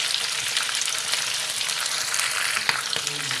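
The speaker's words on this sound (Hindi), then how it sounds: "चिकन हमारा अच्छे से फ्राई हो चुका है, कलर देख लें। ये 2 टेबल स्पून दरदरी कुटी हुई काली मिर्च डालते हैं।" Chicken pieces sizzle steadily in a hot pan as crushed black pepper goes in, a close, continuous frying hiss with faint stirring clicks and no talk.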